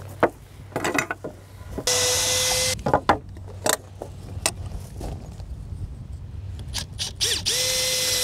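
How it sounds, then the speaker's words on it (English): A power drill whines in several sustained bursts, biting into wood during roof truss work, with knocks and handling clatter between runs. "So this is my drill."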